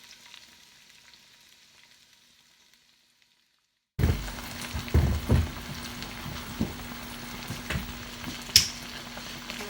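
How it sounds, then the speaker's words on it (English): Onions and garlic frying in a pan over medium-high heat: near-silence, then a sudden loud sizzle that stays steady, with scattered pops and crackles and a sharp spatter near the end. "We're keeping this at medium-high heat. I'm going to add in our onions,"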